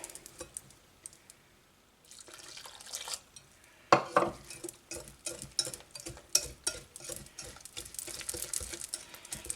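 Poppy seeds, sugar and hot milk are stirred together in a bowl, giving a quiet start and then an irregular run of clinks and scrapes from a utensil against the dish.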